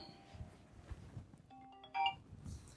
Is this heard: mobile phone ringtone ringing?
yes